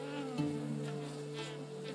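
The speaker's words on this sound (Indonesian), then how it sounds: "Wah, lebahnya langsung muncul" A swarm of bees buzzes steadily at a beehive in the medieval survival game Medieval Dynasty, a continuous droning hum with harmonic layers that stays close and fairly loud throughout.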